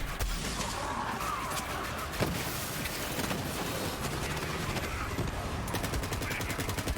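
Rapid automatic gunfire in the shooter game Borderlands 3, dense continuous bursts of shots with explosive impacts layered under game effects, loud and sustained without a pause.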